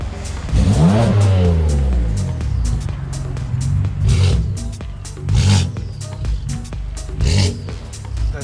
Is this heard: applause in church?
no